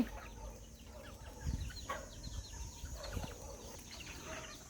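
Chickens in a coop on a small farm cluck softly and intermittently, a few low, faint calls scattered over a quiet background with light rustling.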